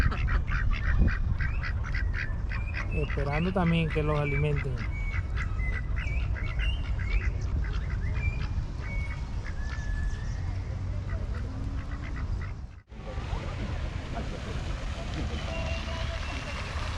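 Ducks quack and call from a park pond in Simón Bolívar Park, Bogotá, a steady cluster of calls heard from close by amid other birds, with people talking over them throughout.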